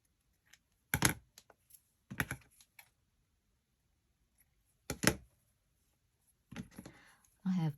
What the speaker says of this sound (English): And here I am using these dollar store scissors.